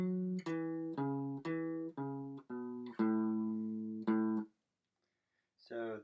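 An electric guitar plays the riff from a song as a run of about eight clean picked notes in a bouncing rhythm, then pauses briefly before one more note starts.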